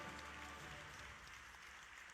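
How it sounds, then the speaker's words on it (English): Audience applause at a university graduation convocation in a large hall, a steady wash of many hands clapping, faint and distant, sustained throughout. "let's put our hands together for another round of applause"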